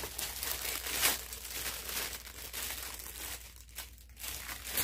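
A small plastic packaging bag is crinkled and pulled open up close, giving a steady stream of dense rustling and crackling for several seconds with no talking.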